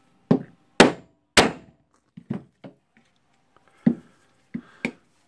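Sharp metallic hammer blows drive a cylinder into the tool holder of a Makita HR2811FT rotary hammer drill: three loud strikes, then several lighter, irregular taps with short pauses between them, close and isolated.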